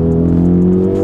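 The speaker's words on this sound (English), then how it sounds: "Ooh, it sounds good when you change gear." A Renault Megane RS Cup engine drones loud and close during a brief gear change, a steady low mechanical tone with faint periodic chirps above it.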